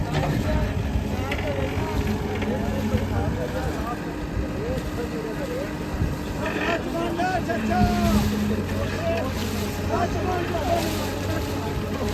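A crane's heavy engine drones steadily with a low mechanical hum while voices talk over it and wind buffets the microphone, during recovery of a tractor sunk in the Chenab River.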